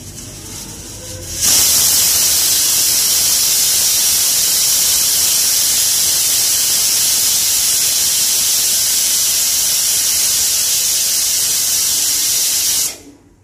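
Pressure cooker on a stovetop burner, boiling potatoes and eggs in water, letting out a loud, steady hiss of steam that starts abruptly and holds unbroken for about eleven seconds before cutting off.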